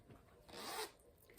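A lavender zipper on a polka-dot bag is pulled open in one quick, soft zip, faint and close with nothing else around it.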